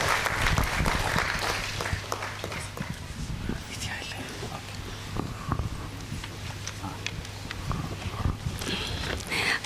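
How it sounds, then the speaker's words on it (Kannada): An audience at a music award commemoration event claps to welcome Mrs. Aruna Gopinath to the stage, a dense patter of hands going on continuously under a voice speaking over it. "ಒಂದು ಚಪ್ಪಾಳೆ ಶ್ರೀಮತಿ ಅರುಣಾ ಗೋಪಿನಾಥ್ ಅವರಿಗೆ."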